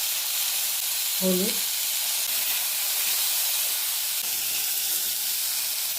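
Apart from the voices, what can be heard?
sweet potatoes frying in oil with dried chilli and mustard seeds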